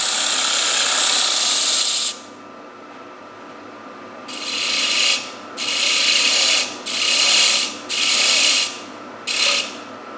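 A power sander works a wooden bowl through successive grits in loud hissing bursts: one long run, a pause, then four strong passes of about a second each and a final short burst.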